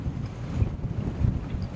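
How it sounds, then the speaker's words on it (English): Strong wind gusting around 20 knots buffets a boat at anchor, a steady loud roar with rumbling low-end buffeting and no voices. "And it's windy right now. I think it's blowing like 20 knots."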